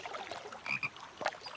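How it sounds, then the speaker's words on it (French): Frog croaking in a cartoon, a few short croaks against a soft noisy background. "C'est rien, c'est juste une grenouille."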